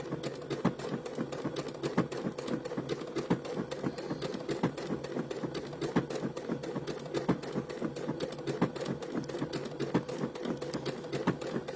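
A sewing machine works through a blanket stitch, making a soft, steady run of rhythmic clicks and ticks that pulse evenly throughout, fairly quiet and with no voices.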